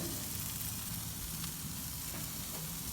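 Chicken tikka boti sizzles steadily on a grill as the pieces are flipped, a dense continuous frying hiss with faint scrapes and taps running throughout.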